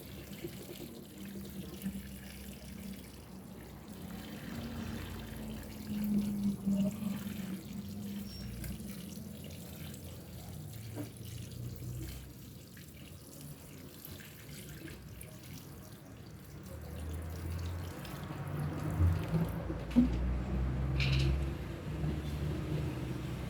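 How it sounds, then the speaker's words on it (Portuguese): Water poured from household containers onto the soil of a potted spring plant, a continuous soft trickling and splashing that carries on steadily and grows slightly louder toward the end, with no talking. "Olha, tá saindo aqui já água de dentro."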